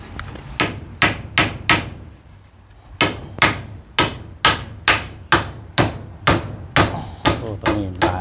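Hammering during construction of a kitchen extension: about fourteen sharp, evenly spaced blows ring out close by, with a short pause after the first few strikes before a steady run resumes.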